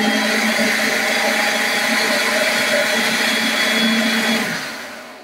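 A food processor chops oranges for Christmas jam, running as a loud, steady whirring drone for several seconds before winding down as the motor stops.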